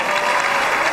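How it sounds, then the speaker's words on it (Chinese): A studio audience breaks into loud, dense applause, a steady wash of clapping throughout the brief moment. "掌声有请"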